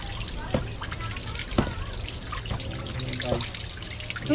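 Tap water trickles and splashes steadily during dishwashing, with scattered clinks of plates and utensils, while people talk over it nearby.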